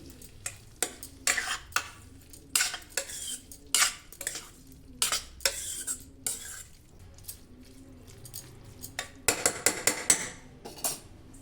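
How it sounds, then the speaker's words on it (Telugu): A ridge gourd curry with green chili stirred in a pan, a spoon or spatula scraping and clinking against the metal in a series of sharp, irregular strokes, close and fairly quiet, with a soft sizzle underneath and no talking. "మిరం వేసుకున్న తర్వాత ఒకసారి అంతా కలిసేలా కలుపుకోండి"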